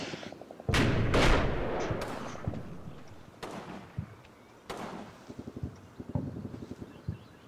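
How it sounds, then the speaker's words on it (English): Heavy machine gun fire in the Combat Mission war game, Normandy-era infantry battle: loud sharp bursts and booming impacts at irregular intervals, with rattling rapid shots between them and a sustained heavy barrage early on. "HMG, I knew there'd be a HMG there"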